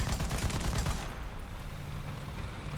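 AMX-13 VTT DCA anti-aircraft gun firing in a tank video game, a fast rattling burst of close, loud rapid shots lasting about a second, followed by a quieter lingering rumble.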